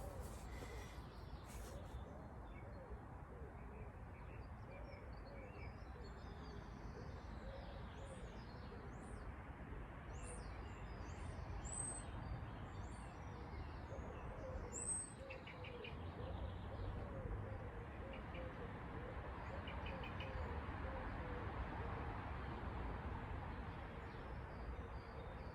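Faint birdsong and occasional chirps drift over a steady background hum of distant traffic, quiet and continuous.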